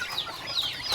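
Young ducklings at feeding time, a quick flurry of high, thin peeping cheeps repeated close by over a brief moment.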